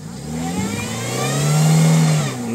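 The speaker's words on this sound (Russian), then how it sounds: "Давай обороты, обороты," A Lada Niva stuck with its tyres slipping has its engine revved hard. The pitch climbs into a loud, strained roar, holds there, then eases off near the end.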